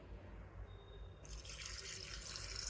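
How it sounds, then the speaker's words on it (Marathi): Water is poured into a jar holding black salt and mustard powder for homemade kanji. After a quiet lead-in, a sudden bright, hissing splash starts and carries on steadily to the end. "आता आपण यामध्ये पाणी ॲड करूया।"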